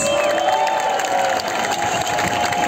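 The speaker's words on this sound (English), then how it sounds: "Applause for your dancers." A festival crowd applauding and cheering for dancers, a dense continuous wash of clapping and shouts with a sustained tone running underneath, loud throughout.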